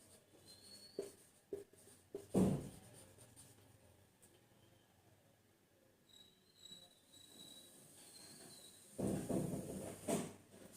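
Marker or chalk writing on a board during a maths class: scratchy strokes in short bursts, with two longer louder passages of writing, close and quiet against a faint hum and a thin whine.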